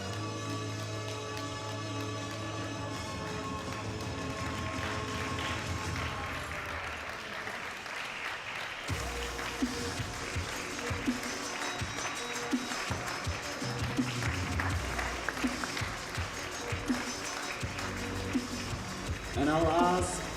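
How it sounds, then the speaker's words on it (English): Audience applause at the European Equipped Powerlifting Championship for the women's 69 kg category, steady crowd clapping in a large hall mixed with an amplified announcer's voice and music for about twenty seconds. "give a round of applause to our ladies from 69 kilo category"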